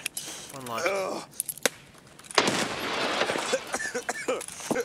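Gunfire in a first-person shooter match, sharp bursts of shots breaking through the mix, with players talking over much of the clip.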